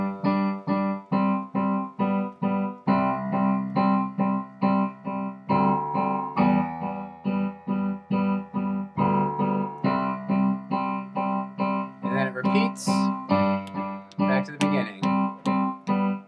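Piano playing a tune, steady repeated chords in an even pulsing rhythm with a brighter, busier melody near the end, close and clear with no talking.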